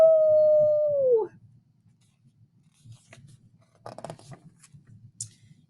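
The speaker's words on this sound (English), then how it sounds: "dogs woke up and howled right back" A single drawn-out dog howl holds steady, then slides down and breaks off after about a second, leaving a quiet stretch of faint low rumble and scattered light scratchy sounds.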